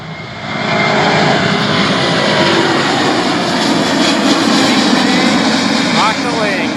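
Boeing 787 Dreamliner departing Sarasota International and climbing, a loud, steady broadband jet roar holding near after a quick rise, with brief voices underneath.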